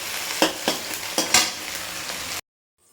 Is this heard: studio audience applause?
no